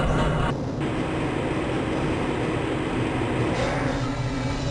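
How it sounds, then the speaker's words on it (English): A train rolls through the Black Mesa transit system in the video game Half-Life: Blue Shift, inbound from the Area 8 topside dormitories toward the Area 9 Central Transit Hub. A steady, loud rail rumble and rattle continues throughout. "This train is inbound from the Area 8 topside dormitories to the Central Transit Hub in Area 9."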